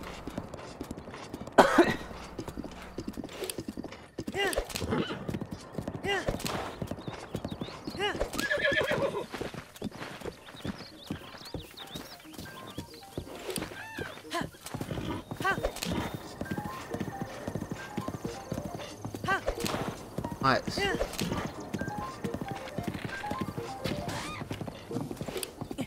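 A horse in The Legend of Zelda: Breath of the Wild whinnies and runs with rapid rhythmic hoofbeats, its neigh loud near the start and the clopping continuing steadily under occasional talk.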